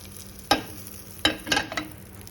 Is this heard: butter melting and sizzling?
yes